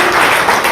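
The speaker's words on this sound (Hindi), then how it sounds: "जोरदार तालियां होनी चाहिए भाई।" Audience applause at a company profile presentation for IMC, a brief burst of steady clapping from a crowd, loud and continuous across the whole moment.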